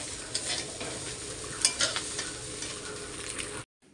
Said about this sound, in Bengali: মাংসটা ভালোভাবে তেজ গ্যাসে কষিয়ে নেবো